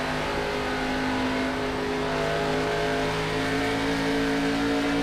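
ARCA series race cars roar past at full acceleration on the Dover oval, a dense sustained engine drone with layered revving pitches and no break, loud and close throughout.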